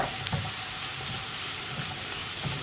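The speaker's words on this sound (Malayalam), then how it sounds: "ഇനി ഇതൊന്ന് ചെറുതായിട്ട് വഴറ്റിയെടുക്കുക." Green chillies sizzle steadily in a hot pan for a dish of Kerala-style brinjal stir-fry, a continuous close frying hiss with soft stirring scrapes and no talk.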